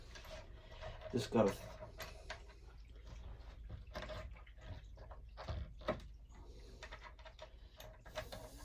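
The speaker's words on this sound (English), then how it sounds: "thread the kingpin back on and tighten it back up" Longboard kingpin nut being threaded back on and tightened, giving soft ratcheting clicks and small metallic turns, a sharper burst around the second mark, with a person speaking quietly over it.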